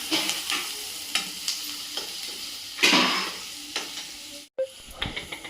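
Onions sautéing in oil in a pan, a close, steady sizzle broken by scraping stirs of a spoon and occasional clanks against the pan, with a brief dropout before the frying resumes.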